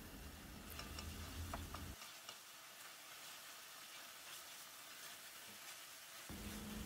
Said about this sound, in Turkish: Kavurma işlemine devam edelim.